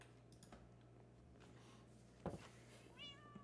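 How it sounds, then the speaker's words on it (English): Two cats meow indoors, one brief close cry standing out over a steady low hum, with light clicking like keyboard taps around it. "Also, these are two cats."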